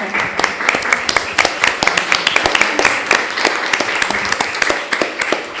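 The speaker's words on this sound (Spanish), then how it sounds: "Eso, vamos, merece un aplauso" Audience applause at a weekend mediation conference, with sharp clapping that carries steadily through the whole stretch, close and fairly loud, while a voice talks over it.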